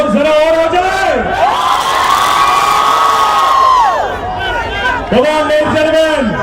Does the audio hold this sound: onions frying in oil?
no